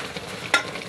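Paksiw fish stew bubbling in a pot, with a soft, faint simmer and one brief louder pop of boiling near the middle.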